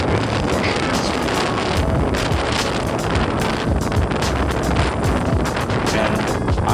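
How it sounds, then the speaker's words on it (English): Wind rushes steadily and loudly across the microphone of a rider heading toward Nodeul Island in cold air. The broadband roar runs unbroken throughout, with no talk. "I can feel the wind rushing against me."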